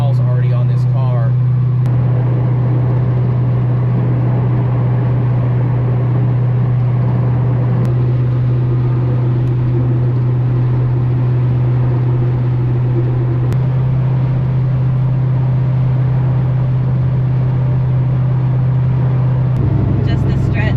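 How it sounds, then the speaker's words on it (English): Steady road and tire rumble from inside a moving 1971 Chevelle, a constant low drone running throughout with faint occasional clicks. "Just the stretch, picking up some tire noise"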